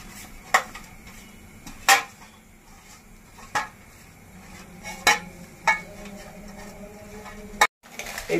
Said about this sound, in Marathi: त्याच्यावर आता आपण झाकण ठेवूया